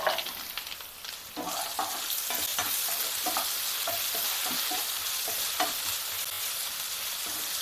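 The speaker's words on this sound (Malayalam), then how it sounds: "നമുക്കിനി ഇതിനകത്തിലേക്ക് ആപ്പിൾ ഇട്ട് കൊടുക്കാം." Apple pieces stirred into fried garlic in a pan for apple pickle, with a continuous sizzle and repeated scraping stir strokes, close and fairly quiet.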